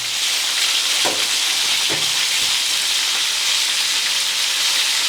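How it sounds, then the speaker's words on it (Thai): Beef frying in hot oil gives a steady, loud sizzling hiss throughout, broken by a few faint clinks of a utensil, with no talking. "วิธีทอดคือทอดให้สุกทีละข้างเลยนะครับ"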